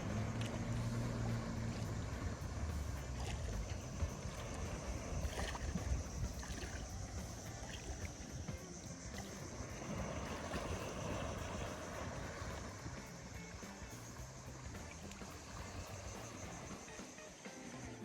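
Sea and outdoor ambience at sunset in El Nido, Philippines: a steady, faint wash of water and wind with boat-like rumble, continuous and distant for the whole stretch, no voices.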